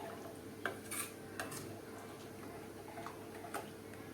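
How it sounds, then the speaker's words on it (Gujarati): Dal stirred in a pot with a spoon, giving light clinks and scrapes at irregular intervals over a faint steady background, close and quiet. "બધું સારી રીતે આપણે મિક્સ કરી લઈએ"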